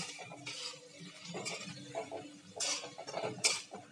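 Chopped green chilli and turmeric being sautéed in a pan for kanda poha. A utensil scrapes and clinks against the pan in a steady, irregular rhythm over a soft sizzle, close and moderately quiet, with no talk.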